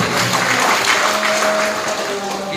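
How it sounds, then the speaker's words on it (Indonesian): Steady, dense clapping from a congregation at a church service inside a prison, continuous and fairly loud for a couple of seconds, with faint sustained tones running beneath it. "Beri tepuk tangan di pria bagi Tuhan."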